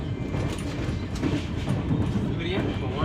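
A local passenger train runs steadily on the way to Goa, a continuous rumble with rhythmic clickety-clack of wheels over the rails heard from inside, with faint voices underneath.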